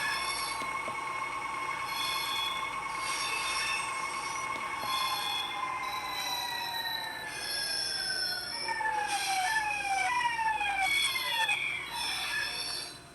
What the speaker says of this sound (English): And so we'll bring the train to a stop.